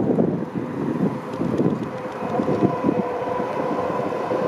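A train in Sweden rumbles past at a distance near an old train repair area, a steady clattering roar mixed with wind buffeting the microphone.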